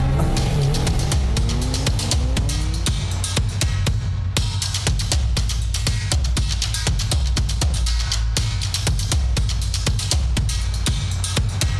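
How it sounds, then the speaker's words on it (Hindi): A car engine cranks and catches, then revs hard in a series of loud, rapid bursts and races off, with the engine roar continuous and close throughout. "चल स्टार्ट कर, गाड़ी स्टार्ट कर।"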